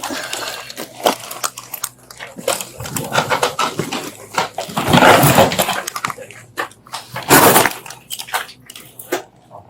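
A police dog searching for a suspect outside a building gives irregular barks, scuffles and crunching bursts, loud and close, with rustling noise between them.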